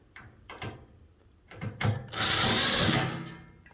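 Power screwdriver backing screws out of the underside of a Splendide/Ariston washer-dryer, with short bursts and scrapes before a sustained loud whirring run near the mic.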